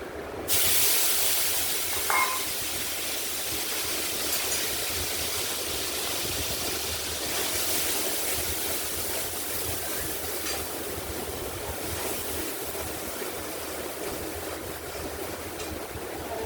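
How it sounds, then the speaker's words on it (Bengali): Black cumin seeds and ground spices sizzle in hot oil for a Bengali cauliflower and potato curry, giving a steady, dense hiss that runs without a break from start to finish at close range, with no voices. "কালো জিরে ফোড়ন দিয়ে এখন আমি এই মশলাটা তেলের মধ্যে দিয়ে দিচ্ছি।"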